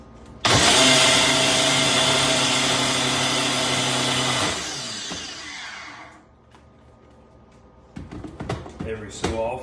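A blender roars loudly as it whips protein ice cream with peanut butter. It runs steadily for about four seconds, then winds down and stops, followed by clattering handling noises and someone talking.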